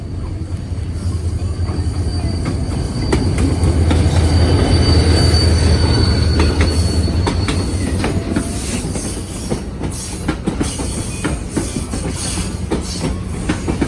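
A freight train rumbles steadily past a restaurant, its wheels clicking and squealing, the low roar swelling in the middle and easing toward the end.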